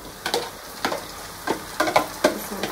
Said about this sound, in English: I had to switch my pot with this one because this one is frying it fast.